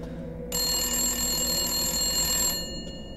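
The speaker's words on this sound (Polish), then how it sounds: "O, mamy telefon?" A telephone rings in the video game Resident Evil Village, one sustained bright electronic ring lasting about two seconds over a low ambient drone.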